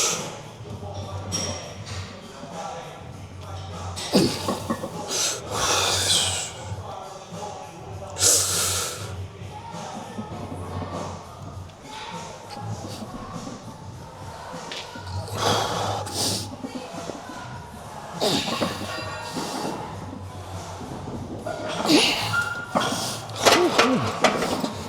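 Heavy, laboured breathing during a gym strength-training session comes in irregular loud huffs and snorts over a constant low background hum, with occasional clanks and thuds in between.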